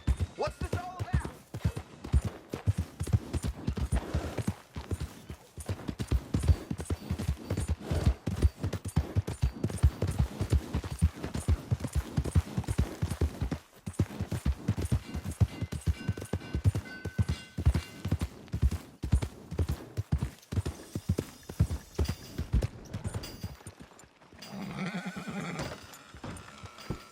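Horse hooves clip-clopping on town streets in the Red Dead Redemption 2 video game: a steady, fairly close rhythmic patter with occasional whinnies, a brief lull midway, and voices talking toward the end.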